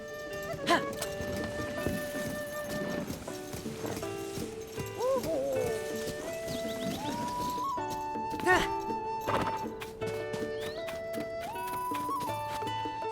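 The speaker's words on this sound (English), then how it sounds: "that horse right there is actually a horse from Breath of the Wild" A horse in Zelda Tears of the Kingdom clip-clops and whinnies in short bursts over game music, while a streamer talks intermittently.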